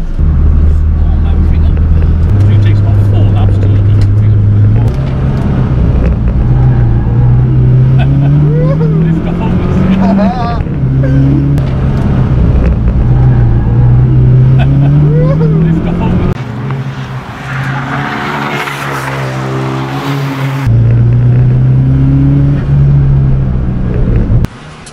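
Nissan Micra K11 1.3 turbo, boosted to 162 bhp, driving on a race track: a loud close engine drone rising and falling through repeated gear changes over steady road and wind roar, with some talk over it.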